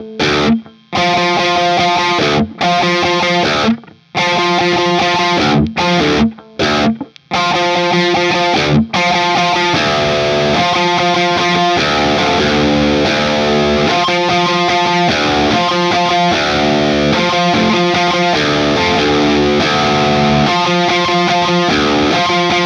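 Electric guitar playing a distorted, effects-laden intro riff: heavy fuzzy chords cut by abrupt stops early on, then a continuous driving riff, loud and close with no voice.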